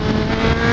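A Kawasaki H2 motorcycle with a Guhl Motors ECU flash pulls hard in fourth gear, giving a loud, continuous engine roar heard close up.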